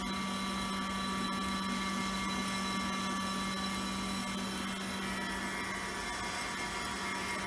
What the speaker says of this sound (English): Only got one vent blower going.